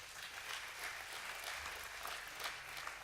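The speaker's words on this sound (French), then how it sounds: "Vous pouvez l'applaudir." Applause for a laureate at a contest finale: a steady, even patter of many hands clapping, faint and distant in a large room, with no voices over it.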